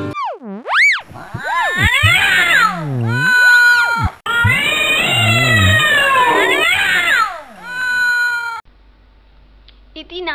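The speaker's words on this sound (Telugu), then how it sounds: "ఒకరోజు రెండు పిల్లులు రొట్టె ముక్క కోసం దెబ్బలాడుతున్నాయి." Two cartoon cats quarrel over a piece of bread, trading loud, wavering meows and yowls that swoop up and down in pitch, nearly continuous for about eight seconds before trailing off into quiet.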